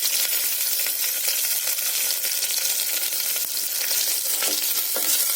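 Curry leaves sauté in hot oil for drumstick dal sambar, a dense, steady high sizzle and crackle with occasional sharper pops, close and alone.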